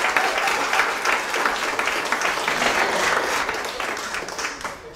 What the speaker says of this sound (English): You can clap it up for her.